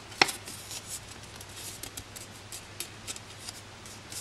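Cardstock Halloween pillow box being pressed down and folded along a score line, soft papery creases and light taps with one sharp crisp snap near the start, faint and close.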